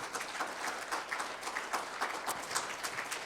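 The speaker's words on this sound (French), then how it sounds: "tonnerre d'applaudissements, s'il vous plaît" Audience applause at an authors' forum on the green transition and energy markets: steady, fairly faint clapping from a crowd that holds evenly through the clip with no talk over it.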